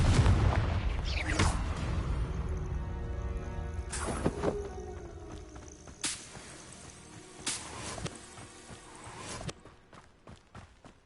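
Confringo blasting spells burst in Hogwarts Legacy, a series of sharp cracking blasts spaced a second or two apart, each with a short ringing tail, loud at first and trailing off to smaller pops.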